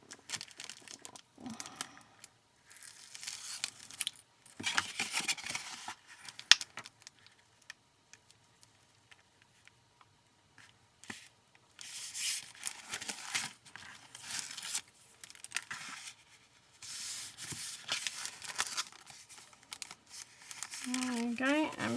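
Sheet of cardstock being folded in half for Care Bears bottle embellishments, with close, bursty crinkling and crisp creasing rustles between pauses, interrupted by a person talking.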